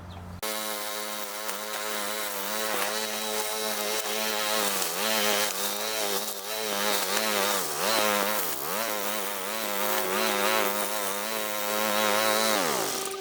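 A weed trimmer fitted with soldered-end stainless steel braided cable in place of line runs at a loud, steady high-revving whine with a wavering pitch, close up and continuous with no talk.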